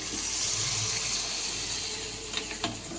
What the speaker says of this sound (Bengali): এবার আমি দিয়ে দিচ্ছি পরিমাণ মতন জল